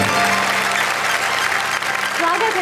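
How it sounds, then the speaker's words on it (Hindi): Studio audience applause fills a TV show stage, a dense and steady wash of clapping that stays loud and continuous for the whole stretch. "ये आपके लिए, पूरे देश के लिए घनघोर तालियां बजाने का वक्त है"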